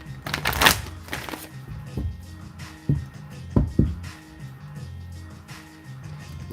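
Tarot cards are shuffled by hand in a few short riffling bursts with soft taps and slides between them, close and fairly quiet.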